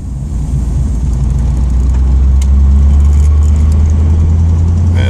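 A 1986 Camaro cruising down a back country road, its engine a loud, steady low drone with road rumble, constant from start to finish.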